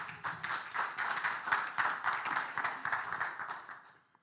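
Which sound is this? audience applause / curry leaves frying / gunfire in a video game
audience applause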